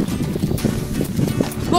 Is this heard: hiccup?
no